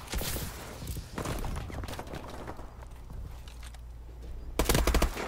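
Automatic turret fire in Call of Duty: Advanced Warfare, a rapid clattering burst of gunshots layered with other battlefield noise. The bursts are loudest at the start and again near the end.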